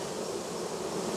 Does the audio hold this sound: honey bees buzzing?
yes